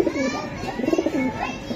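Racing pigeons in a breeding loft give short soft coos, close and fairly clear, over about two seconds; faint voices may be mixed in.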